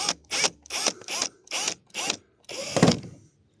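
A power screwdriver works on a BMW E30 car, firing six short, evenly spaced whirring bursts close by, followed by one longer, heavier grinding run.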